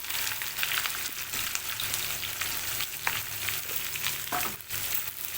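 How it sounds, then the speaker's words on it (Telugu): Chopped onions sizzle steadily in hot oil in a pan for a bitter gourd and onion fry, a continuous close crackling hiss with occasional small stirring knocks and no talking. "ఇదే ఆయిల్లో మనం ఆనియన్ ఫ్రై చేస్తే అయిపోతుంది ఇక్కడ నేను కట్ చేసి పెట్టుకున్న ఆనియన్స్ అయితే వేసుకుంటున్నాను"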